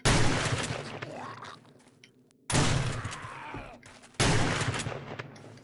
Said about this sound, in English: Yeah, the shotgun's not bad.